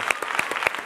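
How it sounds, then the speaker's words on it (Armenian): A theatre audience bursts into applause for a dance couple at a dance talent-show gala concert, with dense rhythmic clapping in a short, loud burst. "Եկեք թեկուզ այդ պահման համար ծափահարենք այս զույգը։"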